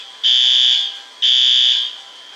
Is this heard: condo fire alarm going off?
yes